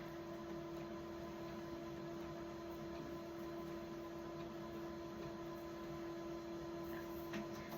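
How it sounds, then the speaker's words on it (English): An HP printer gives off a steady, low mechanical hum with a faint electrical whine, quiet and unbroken throughout, with no voices. "my printer is doing that thing HP printers do"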